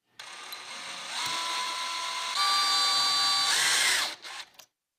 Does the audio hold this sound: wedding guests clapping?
no